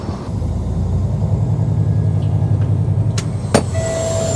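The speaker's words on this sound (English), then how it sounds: "I'll drive the truck underneath the auger here now." A farm truck drives slowly beneath a grain auger: a loud, steady low engine rumble close by, with a couple of brief clanks and a faint high tone toward the end, no talking.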